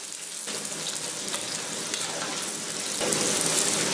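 Cauliflower deep-frying in hot oil heated to about 60 percent in a wok, giving a steady broadband sizzle and crackle that begins abruptly and swells slightly louder toward the end, with no talk.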